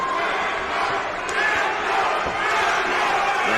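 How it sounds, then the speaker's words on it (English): A boxing fight night crowd cheers and roars for a fighter in a steady, loud wash of voices, with a commentator talking over it. "you hear the crowd cheering for their fighter"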